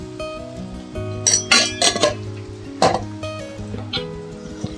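A spoon stirs salt and turmeric into a pot of bitter gourd curry, with a few light metallic clinks and scrapes against the pot, close and fairly loud.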